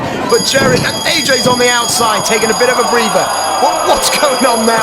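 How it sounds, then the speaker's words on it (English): A fire alarm bell rings steadily during a live wrestling show in an arena, its continuous tone running under two commentators talking. "That is a fire alarm."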